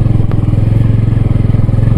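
A motorcycle labours along a rough off-road mountain trail toward Pumdikot, its engine chugging in loud, rapid, even low pulses right up close, straining steadily without a clear rev-up.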